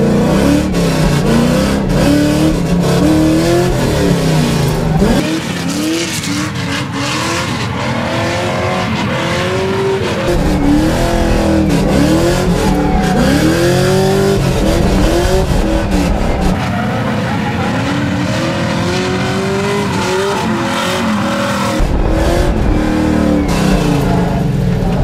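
LS1-swapped Nissan S13 drifting at night: loud V8 revving rising and falling in repeated sweeps, with tire squeal layered over it, close and continuous, with no talk.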